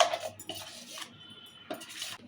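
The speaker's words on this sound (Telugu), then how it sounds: "ఇప్పుడు ఈ కారంకు కలిసేటట్టు మంచిగా కలుపుకోవాలి" A spoon stirs oil tempering into a tomato pickle chilli mix in a metal vessel, giving a few close, quick scraping clinks in short bursts.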